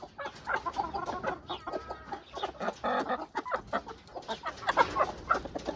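Chickens cluck busily and continuously, several birds close together, with overlapping chattering calls throughout.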